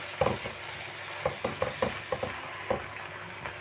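Freekeh is stirred in a hot pan while frying, with soft scraping strokes in an uneven rhythm over a low sizzle, heard up close with no talking.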